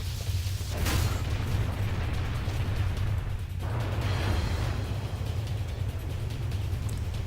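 Booming explosions from the Final Fantasy X battle, a loud sustained rumble with a sharp burst near the start and another roughly halfway through, alone without voices.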